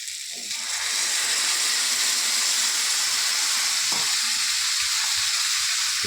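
Spice masala hits hot oil after pieces of chicken have been fried, for a Bengali chicken kosha: a loud, steady sizzling hiss bursts up within the first second and keeps going strongly to the end, with no talk over it.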